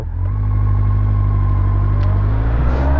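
A car accelerating hard with its engine revving, a loud, steady, close roar from a throttle with no electronic aids, the drone climbing gradually in pitch.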